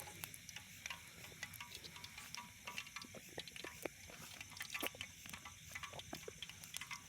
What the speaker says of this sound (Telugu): మనం ఇప్పుడు ఆయిల్ అయితే వేడెక్కింది, మంచిగా పోలు వెళ్తున్నాయి